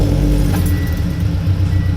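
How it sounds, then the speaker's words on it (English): The engine of a manual stick-shift car runs as a steady low rumble close to the listener, with a voice speaking over it. "and start the car."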